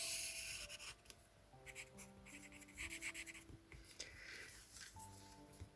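A pencil draws the waist line on sewing pattern paper for a girl's dress pattern, giving soft, intermittent scratchy strokes over a steady, tonal background hum.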